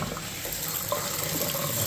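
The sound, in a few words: water flushing through bathtub faucet line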